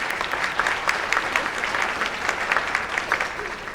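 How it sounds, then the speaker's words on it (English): An audience at a women business leaders forum applauds warmly, a thick continuous patter of many hands with a few louder claps standing out, sustained evenly throughout. "Let's give them a huge round of applause."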